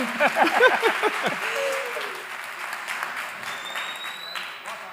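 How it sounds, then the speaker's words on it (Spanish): An audience at a Girona talk breaks into applause, dense at first over someone speaking, then thinning to a softer, steady patter as clapping continues in the room. "Celia Villarino, un aplauso para ella, por favor."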